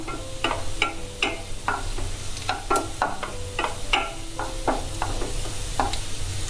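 Urad dal fries in oil and is stirred with a utensil. Repeated sharp scraping and clinking strokes fall at an irregular rhythm over a steady close sizzle, with no talking.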